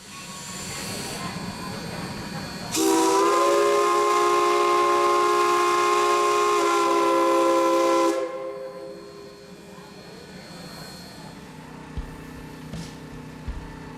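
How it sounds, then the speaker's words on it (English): Texas State Railroad steam locomotive 400 sounds a single long, loud whistle blast of about five seconds. Steam hisses before and after, and the station ambience quietens once the whistle stops. "the engineer gives a whistle blast to announce it is clear for passengers to disembark"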